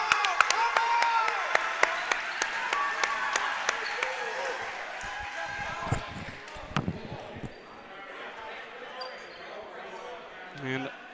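Crowd at a varsity high school basketball game cheers and claps during a timeout, with loud rhythmic clapping and sharp ball bounces ringing through the gym, noise thinning toward the end as a commentator talks over it.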